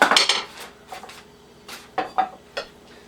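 Fudge made in a microwave is scraped out of a bowl into a pan: a few sharp utensil scrapes and clinks against the dish, loudest at the start and then in short separate bursts, with no talking.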